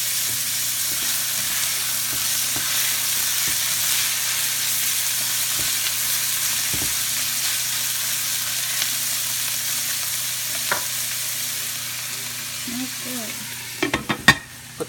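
Fajita vegetables sizzle steadily in olive oil in a pan, a broad continuous hiss with soft scraping stirs throughout, and a few sharper clatters and knocks near the end.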